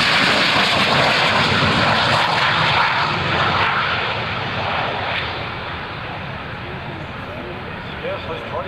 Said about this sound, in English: Scarcely 20 feet off the ground, the F-117 stealth makes his final pass.